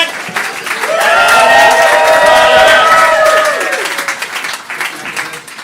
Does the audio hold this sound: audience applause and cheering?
yes